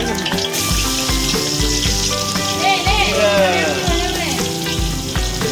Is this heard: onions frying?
yes